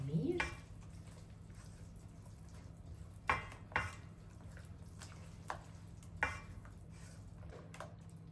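Dough mixture with eggs and oil is stirred in a bowl, giving soft wet scraping and a few light knocks of the utensil against the bowl, with a voice speaking at the start.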